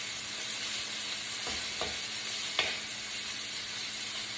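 Steak searing in a hot wok for a rare finish, a steady close sizzle with a few sharper stirring clicks and scrapes.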